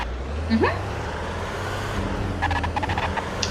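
A heavy truck engine in the video game Infestation: The New Z rumbles low and steady, with a brief rising whine early on and a short burst of clattering near the end.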